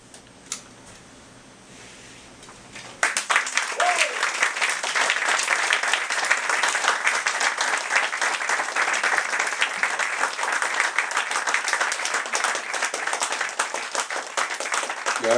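After a quiet moment, an audience at an evening poetry reading breaks into loud, sustained applause that carries on steadily with dense clapping.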